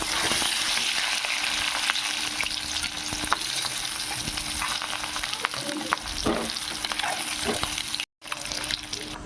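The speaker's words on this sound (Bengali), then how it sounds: "কড়াইতে সর্ষের তেল দিয়ে তেল গরম হয়ে গেলে নুন হলুদ দিয়ে ডিমগুলো প্রথমে ভেজে নেব" Eggs frying in hot mustard oil with salt and turmeric in a wok crackle and sizzle continuously up close, with faint stirring scrapes and a momentary dropout near the end.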